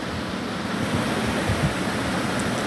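Whole cumin seeds and a bay leaf sizzling in hot mustard oil in a kadai, a steady dense hiss with soft crackles throughout, close and moderately loud.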